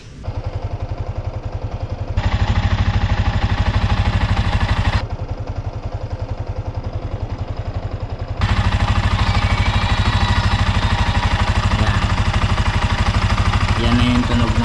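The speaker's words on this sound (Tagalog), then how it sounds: "So pakinggan natin ang tunog ng makina natin before and after" A motorcycle engine, freshly tuned up with new oil, runs at a steady idle with a close, rapid rhythmic thrum. It shifts in intensity a few times as the revs rise and settle, continuing throughout without speech.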